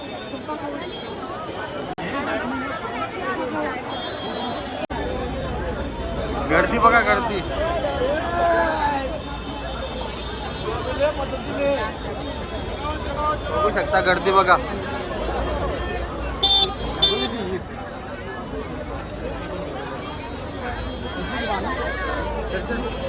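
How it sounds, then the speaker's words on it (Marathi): Dense crowd at Lohar Chawl street market during Ganpati festival shopping, a continuous babble of many voices and shuffling movement, with a nearby person talking over the hubbub throughout. "गर्दी बघा चालायला जागा नाही"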